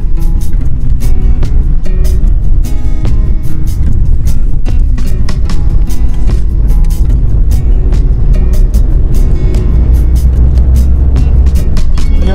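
Steady, loud road noise of traffic moving along the Mumbai–Goa highway on a road trip toward Shrivardhan, a continuous engine and tyre roar throughout with no talking.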